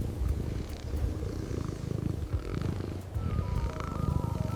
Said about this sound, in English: She hears deep rumbles, her mother's purr